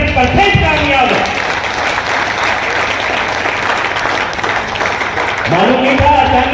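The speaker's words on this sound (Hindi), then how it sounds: "तो आप ताली बजा दें" An audience at a Kangen Water event in Delhi claps hard in sustained applause that fills the room, with voices mixed in toward the start and end.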